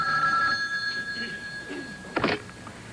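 A telephone rings indoors, heard as a steady electronic tone under a noisy room, with a brief clatter near the end.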